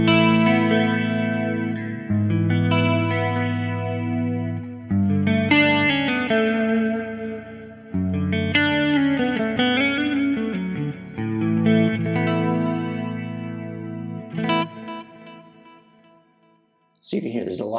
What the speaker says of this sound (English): kind of a thick chorus clean tone